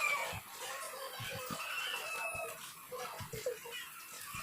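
Chickens cluck and murmur outdoors amid a broad bed of rustling ambient noise, with a few short low thumps scattered throughout; the birds sound moderately close but partly masked.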